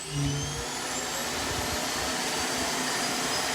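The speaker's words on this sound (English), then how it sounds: "if it's gonna empty, it's gonna make a lot of noise" A loud, steady whooshing roar of a Roomba i7/i8+ robot vacuum emptying its bin, running continuously with a low rumbling undertone.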